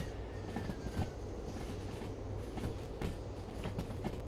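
A freight train rolling by in a train simulator game, with a steady rumble, rhythmic wheel clicks and a faint squeal, moderately quiet and continuous with no talking.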